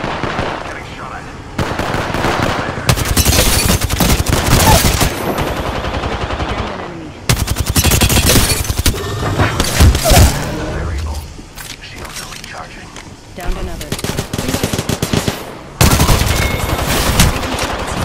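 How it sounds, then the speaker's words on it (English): Video-game gunfire crackles in loud, sustained machine-gun bursts with scattered single shots, broken by short lulls, while a voice talks over the action. "Getting shot at."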